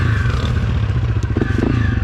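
A Honda CRF250F dirt bike roars nearby under a test ride, its engine droning steadily with rattling clatter and small surges of throttle.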